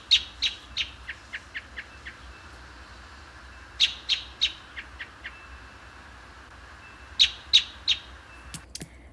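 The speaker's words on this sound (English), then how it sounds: "So I'll attach a little audio of how these American robins sound." American robin song in spring: three bouts of clear, bright whistled phrases, each a quick run of several notes that slows and fades, with pauses between. Moderately close and alone over faint background hiss.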